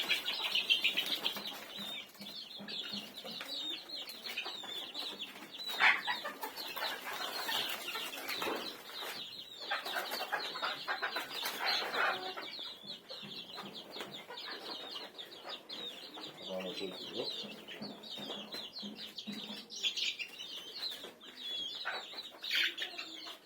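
Chickens and young chicks on a small poultry farm, soft clucking and chirping with wing flutters, steady and moderately close, with no talking.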